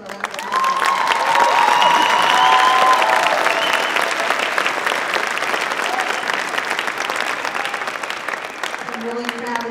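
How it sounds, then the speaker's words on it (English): An audience at a high school pops and awards concert breaks into loud, sustained applause that builds quickly and holds steady for several seconds, with some cheering mixed in. "So give them a round of applause."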